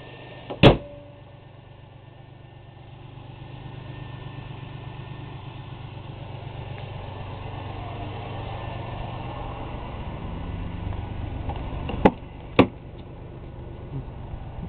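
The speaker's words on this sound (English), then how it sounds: "The engine does run very smoothly, fairly quietly." A 1993 Buick Skylark four-door idles smoothly and fairly quietly as a steady low hum, with a few sharp clicks or knocks near the start and near the end.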